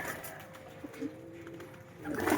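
Racing pigeons coo softly inside a loft, a low repeated murmur set back in the room over steady background noise, with no talking.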